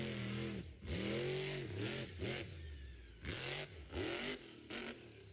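Monster truck engine at a Wheatland, Missouri event, revving hard in repeated surging bursts with falling pitch sweeps as the truck launches into a jump, loud and close, with no talk.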